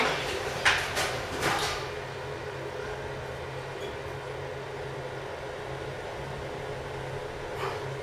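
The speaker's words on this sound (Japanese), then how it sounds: "2階でドアが開きます。" A Mitsubishi standard-model elevator at JR Hakodate Station slides its door open, giving a steady mechanical whir and hum after a couple of brief clunks at the start.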